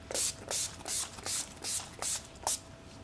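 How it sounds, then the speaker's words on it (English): A makeup setting spray mists onto a face in seven quick, evenly spaced hissing bursts, each short and close, with no one speaking. "I'm just going with the same setting spray I use on my brush."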